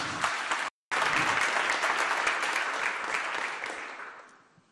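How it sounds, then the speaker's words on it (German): An audience at a rapid-fire startup pitch event gives sustained, dense applause that breaks off briefly near the start, then continues strongly and slowly fades out. "Großer Applaus."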